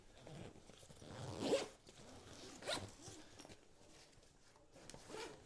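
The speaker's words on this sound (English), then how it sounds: "Bit of zip ASMR there" A bag's zip is pulled open in a couple of short raspy strokes, close and quiet, followed by soft rustling of the bag.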